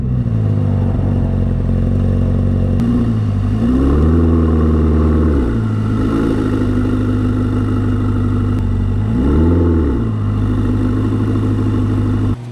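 A Corvette ZR1 pulling onto weighing scales, its engine idling loud and close with a steady low drone, swelling in two brief revs as it creeps forward, with no one talking.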